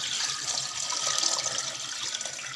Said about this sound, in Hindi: हमने इसमें 15 गिलास पानी डालना है।